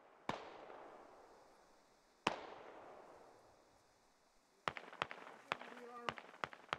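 Gunfire in the military shooter SquadOps: two sharp distant shots with long echoing tails, then a quicker cluster of crisp shots and pops, with faint radio-style chatter between bursts.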